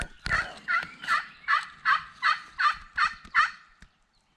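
A Redeemer pot call is worked to imitate a hen turkey, producing a run of about nine rhythmic, raspy yelps at an even pace, close and clear outdoors after a sharp opening scratch.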